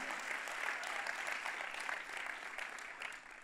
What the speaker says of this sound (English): Come on, clap if you're thankful.